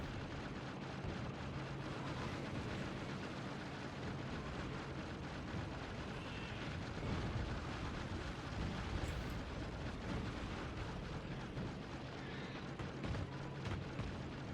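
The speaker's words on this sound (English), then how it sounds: "Yeah, eat some grenades." Grenade explosions and continuous battle noise from Factorio Space Age, a steady dense rumble of blasts and impacts lasting throughout with no voices.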